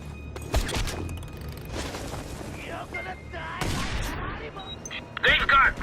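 Heavy gunfire bursts and booms from Just Cause 2 combat against mounted machine gunners during a mountain rescue mission, loud and intermittent, with brief stretches of game voices between.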